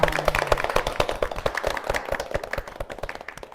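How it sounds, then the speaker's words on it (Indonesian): An audience at an Indonesian anti-trafficking family simulation event claps together, a dense run of sharp hand claps that stays steady and fairly close, then thins toward the end. "Tepuk tangan untuk kita semua."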